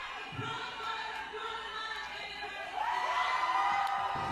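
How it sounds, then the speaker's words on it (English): A crowd numbering in the thousands cheers and shouts at a No Kings protest rally in Chicago, a steady distant roar that swells louder toward the end. "Can't really hear too much there, except for the crowd, obviously, in the thousands there in Chicago"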